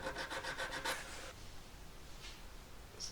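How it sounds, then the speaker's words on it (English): A hand file rasps along the edge of an emerald cut bezel setting in a quick run of short, even strokes, followed by near quiet with a faint scrape or two. "Just got to be careful not to file too much off accidentally."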